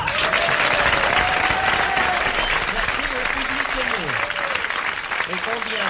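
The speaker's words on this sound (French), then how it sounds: "Et combien ces applaudissements sont mérités?" A television studio audience applauds a comedian in a 1981 French talk show, dense sustained clapping filling the room while a voice speaks over it.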